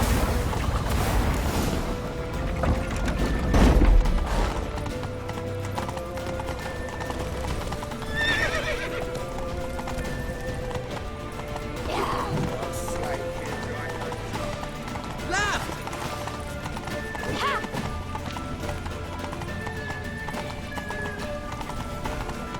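Horse hooves clip-clop rapidly in a gallop with repeated neighs and whinnies in The Witcher 3 video game, shouted voices and game action sounding over the hoofbeats throughout.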